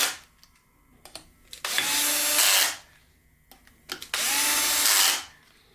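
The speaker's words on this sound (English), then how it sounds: "Now here is where we're going to use" A power tool whirs loudly in two separate bursts of about a second each, with clicks and handling noises in the quiet gaps.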